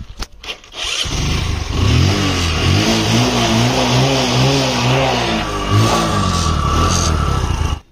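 A motorcycle engine, just flushed with ENO, is started after a few short cranking bursts, then runs loud and close with rising and falling revs for several seconds before cutting off.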